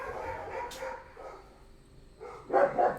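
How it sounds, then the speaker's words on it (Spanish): Dogs bark in a few scattered bursts in a lecture room setting, some close and some farther off, with a louder cluster of barks near the end. "Los perros estos me vuelve loco acá"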